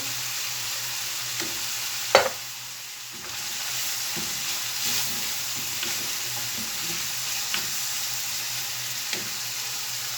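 Tomato paste spoon-fed into a pan for içli köfte filling sizzles steadily while being stirred, with a sharp clack of the spoon near two seconds, a brief lull, then the frying hiss resuming with soft scraping strokes.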